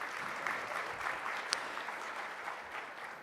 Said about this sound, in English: Let's just give one more round of applause to Lisa.